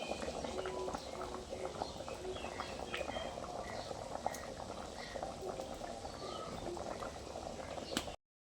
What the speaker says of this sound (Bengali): তো এদিকে পকোড়াটা ভাজছি